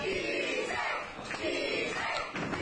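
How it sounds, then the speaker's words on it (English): A wrestling crowd at a heavyweight championship event roars and cheers in a loud, continuous wash of voices that swells and dips. "And this crowd certainly favouring Phil Powers."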